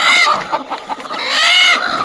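A broody village hen clucks close by, a quick series of short, rough, nasal clucks and squawks in an irregular rhythm, fairly loud and with no talking.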